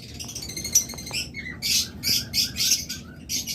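Pet budgerigars or cockatiels at a bird seller's shop give a string of high chirps and squawks, sparse at first and then in several louder bursts close by, with no talking.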